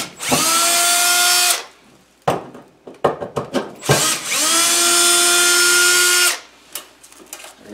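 A power drill backing two screws out of a furnace panel, giving two long, loud whining runs, each followed by short rattling bursts and clicks as the screws come free.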